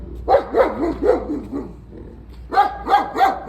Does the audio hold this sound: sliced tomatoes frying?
no